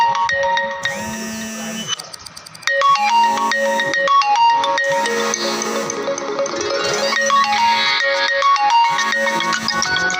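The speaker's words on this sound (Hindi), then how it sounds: "फ़ोन आ गया था किसी का, मैं फ़ोन नहीं उठाऊंगा" A mobile phone ringtone plays loud and close as an incoming call rings, a repeating electronic melody of bright tones that briefly dips then carries on continuously, with no talking over it.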